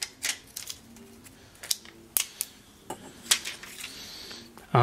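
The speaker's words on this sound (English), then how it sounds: "Let me just get the cellophane." Cellophane film peeled off a Kata F1s smartphone: a series of irregular crackly crinkles and small sharp snaps up close, each short and separated by quiet gaps, with no talk over them.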